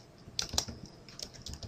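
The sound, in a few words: typing a name on a computer keyboard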